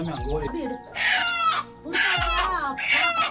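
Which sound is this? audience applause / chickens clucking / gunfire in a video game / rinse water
chickens clucking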